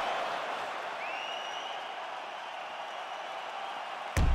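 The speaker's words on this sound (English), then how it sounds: "So the crowd voicing its appreciation after that round." An arena crowd at a fight event cheers and applauds after a round with a knockdown, producing a broad, steady roar of noise that holds evenly, ending in a sudden loud thump near the end.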